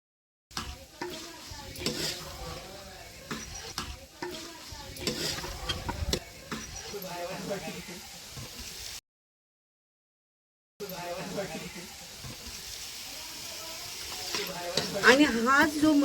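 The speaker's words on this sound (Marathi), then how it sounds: "हा जो मटण सगळे मिक्स करून सगळे मसाले मीठ सर्व ते ह्याच्यावरच शिजवायचं थोडंसं" Mutton with spices and salt being stirred and cooked over a village wood-fired stove, with close sizzling, hissing steam and scraping stirs, interrupted by a short gap, as people talk nearby.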